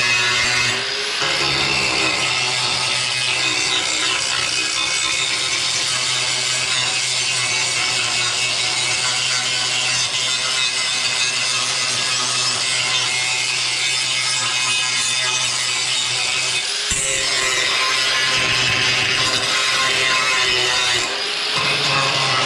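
A metal grinder works steadily on the rocker panel of a Mercury Sable station wagon, a loud continuous harsh whine that barely lets up, with a brief break near the end, no voices.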